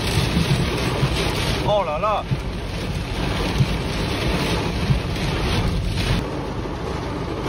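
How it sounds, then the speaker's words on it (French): Heavy rain and gusting wind roar continuously, close and loud, with a brief exclamation from a voice partway through. "c'est monstrueux cet orage"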